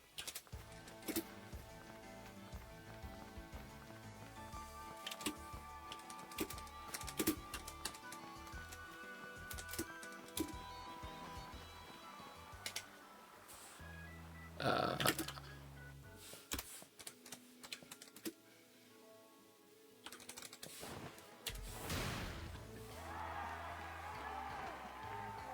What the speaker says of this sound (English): Sorry for typing.